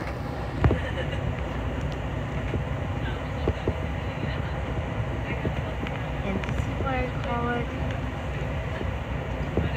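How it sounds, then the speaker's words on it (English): A train rolls past near Martinez, California, on a route toward Davis and Sacramento, a steady low rumble with wheel and rail noise that holds level throughout, a voice briefly speaking over it. "A train."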